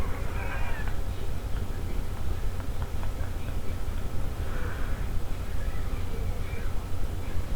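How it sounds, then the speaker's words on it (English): A cat meows outside, several drawn-out calls spaced apart over a constant low hum, moderately close and clear. "Is there a cat out there?"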